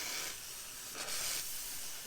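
Soft steam hisses at low level while a 1962 Harmony guitar top is steamed in a repair workshop, swelling briefly midway through the short stretch.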